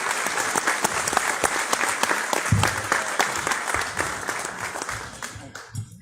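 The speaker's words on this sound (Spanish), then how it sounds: "Por favor, recibámoslo con un aplauso." Audience at a formal event in Guatemala applauds as Doctor Conrado Reyes is introduced, a dense steady clapping that holds for several seconds before thinning out at the end, with a voice faintly under it.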